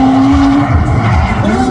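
A drift car at an autograss circuit slides wide around a big corner, its engine roaring loud and close with a sustained tire squeal throughout.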